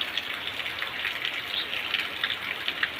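Steady light rain falls on Ashadhi Beej morning, a dense even hiss with scattered small drop taps throughout, moderately close and continuous, with no voices.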